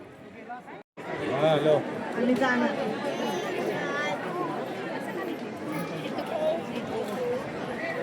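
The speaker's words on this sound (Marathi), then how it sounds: "आज पण लाईन लागली आहे ना एवढी गर्दी." Dense crowd of devotees queuing at Jyotiba temple on a hill near Kolhapur, a continuous babble of many overlapping voices close by, steady and loud after a brief pause at the start.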